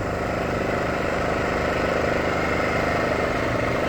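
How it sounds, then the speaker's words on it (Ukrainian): A new Genergy Limited 2000i inverter petrol generator runs at a steady, even drone, a constant close mechanical hum with no change in pitch or level and no talking. "Новенький генератор."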